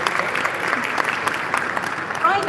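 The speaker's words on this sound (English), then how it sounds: "So a round of applause, please, for Joe Chidiak from JC Media Group." An audience at the Economy Middle East Summit 2025 awards applauds steadily, a full, even burst of many hands clapping, with some voices mixed in underneath.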